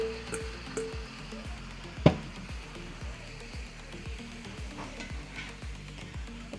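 Ground pork stir fry with a vegetable mixture sizzling in a pan, with a quiet continuous hiss and regular rhythmic scrapes of stirring, plus one sharp knock early on.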